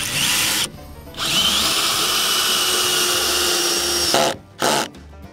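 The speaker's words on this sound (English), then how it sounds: "So you pre-drilled the holes and now you're putting the screws in." Power drill driving screws into pre-drilled deck boards for an RV deck, a loud sustained whine with two brief pauses and a short final burst, close to the microphone.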